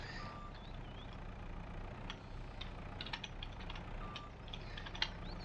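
A tractor reversing a trailer in Farming Simulator 22, a low steady engine hum with faint mechanical clicks and a repeating reversing beep, quiet throughout.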